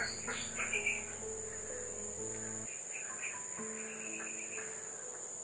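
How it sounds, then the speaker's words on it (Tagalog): Outdoors in a very quiet rural area, crickets keep up a loud, continuous high trill while a bird gives short chirping calls nearby, with a few faint frog-like croaks low underneath. "Parang may ibon mga tolo."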